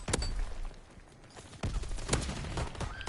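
Gunfire from a gun in Call of Duty WWII, a few sharp cracks spaced apart with muffled battle noise between them, fairly distant and low in level.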